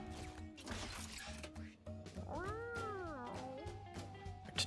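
A cat yowls and wails with rising, bending cries as it burns in the video game Mewgenics, heard over busy game music and effects, loud and close.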